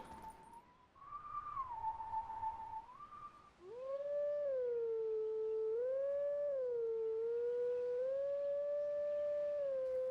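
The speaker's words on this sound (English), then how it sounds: "It's a Howling Stone!" A Howling Stone in The Legend of Zelda: Twilight Princess HD sounds a wavering, howl-like tone that rises and falls in steps, loud and sustained with layered harmonics, with faint game ambience beneath.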